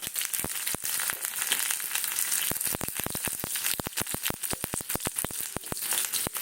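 Onion frying in a pan crackles loudly with dense, irregular pops and spits of oil over a constant sizzling hiss.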